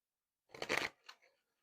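A deck of tarot cards is shuffled in a brief burst: one quick riffle followed by a softer second flutter, close and otherwise quiet.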